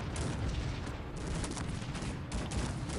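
In Cossacks 3, dense bursts of rapid crackling musket fire from dragoons roll in several waves, a volley of many shots blending together, moderately distant.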